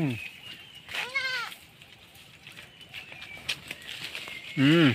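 Goats beneath a fruit tree on a farm let out two wavering, bleating calls, one early and one louder near the end, with faint rustling and distant voices in between.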